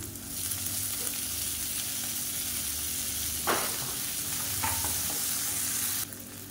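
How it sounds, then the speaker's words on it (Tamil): Chana dal and urad dal frying in oil with chopped onions, green chilies, curry leaves and coriander, giving a steady close sizzle with a few stirring scrapes and clinks. "இப்போ கடலைப்பருப்பு உளுந்து எல்லாமே கொஞ்சம் லைட்டாக பொரிய ஆரம்பிக்குது."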